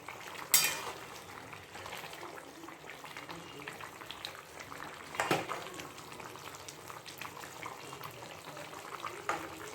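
Radishes simmering in a covered pot with the lid lifted: soft, quiet bubbling and hiss broken by two clattering lid and utensil knocks, no talking.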